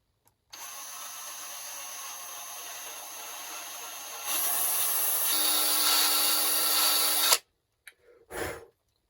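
Power drill boring a lead hole into a wooden bluegill wakebait, a steady whirring grind that grows louder and harsher partway through, then stops abruptly, followed by a couple of short handling knocks.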